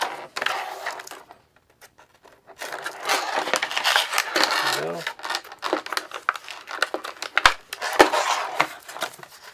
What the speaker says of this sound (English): Get my knife and cut that tape off.